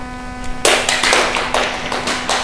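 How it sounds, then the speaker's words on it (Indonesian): A classroom gives a group a round of applause: after a quiet start with a faint electrical hum, a few loud, close hand claps arrive in uneven bursts over about two seconds. "Tepuk tangan untuk kelompok 2"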